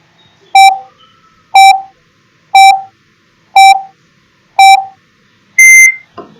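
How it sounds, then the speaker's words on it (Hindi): A quiz countdown timer beeping: five loud, evenly spaced electronic beeps about one second apart, followed by a longer, higher final tone marking the end, with nothing else around them. "चलिए टाइमर को ऑन कर देते हैं।"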